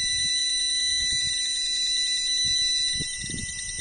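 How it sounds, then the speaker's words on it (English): A steady, high-pitched electronic beeping tone drones from a nearby device, with faint irregular clicks and crackles rumbling underneath. "It's a clicking beep."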